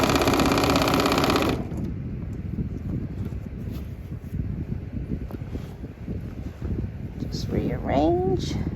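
A domestic sewing machine doing free-motion quilting on a T-shirt memory quilt runs loud and fast for about a second and a half, then continues as a quieter, steady rattling hum.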